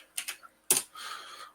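Computer keyboard typing during a coding session: a quick pair of key clicks, then one sharper clack followed by a short, soft rattle of keystrokes, close and fairly quiet with no talking.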